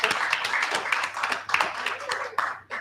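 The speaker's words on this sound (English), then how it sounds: "Give him a round of applause" A workshop audience claps for a speaker in a short, lively burst of close, scattered hand claps lasting a few seconds.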